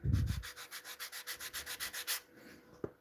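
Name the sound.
lightly sanding with a soft sponge sander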